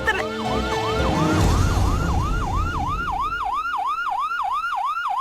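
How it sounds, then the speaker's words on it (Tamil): An ambulance siren wails in rapid repeating sweeps, growing clearer and more prominent as it approaches, over fading traffic noise. "ஆம்புலன்ஸ் வர சத்தம் கேக்குது."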